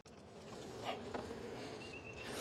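Soft buzzing of honey bees in a hive box while the brood chamber frames are inspected, a faint continuous drone with a few brief louder passes close by.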